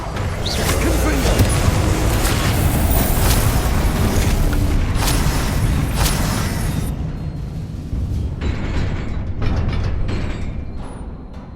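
Confringo blasting spell detonating in Hogwarts Legacy: a loud, sustained rumbling boom with crackling, clattering debris that thins out into scattered impacts toward the end.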